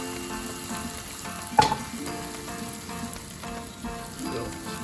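King prawns and peppers frying in a pan, a steady close sizzle with a sharp burst of spitting early on, then continuing crackle without talk.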